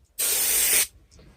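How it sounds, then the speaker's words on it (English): Spray glue hisses from a can onto the sides of an acoustic sound absorption panel in one loud, close burst lasting under a second, then a faint shorter puff after. "we're just going to spray down the sides there with the glue"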